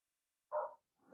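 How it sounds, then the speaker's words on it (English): Two short, sharp yaps from a small dog, faint and some distance off, separated by a moment of silence. "Sorry about the yapping dogs."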